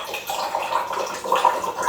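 Water pours and gurgles out of a coconut being opened for a home puja, a steady splashing trickle that swells near the end, with no voices over it.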